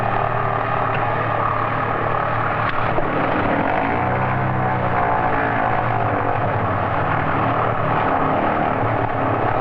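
Piston engine of a Piper Aztec twin airplane running after start on the ground, a steady, loud, close droning hum with throbbing propeller beats that holds throughout, no voices.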